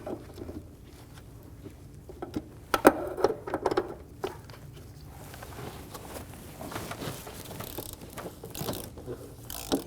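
A ratchet clicks in short bursts while snugging the throttle body bolts down in a cross pattern on a 2008-2015 Scion xB 2.4L L4, close and moderately loud over faint shop noise, with brief pauses between bolts.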